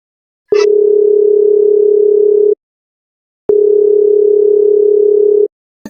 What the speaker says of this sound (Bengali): কে একটা ফোন মারতেছে না